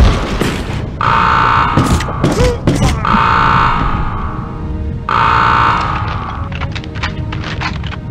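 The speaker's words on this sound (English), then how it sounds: "Alarm!" A loud, repeating electronic alarm wails in pulses in the Medal of Honor PS1 video game, mixed with thuds, bangs and gunfire-like clatter throughout.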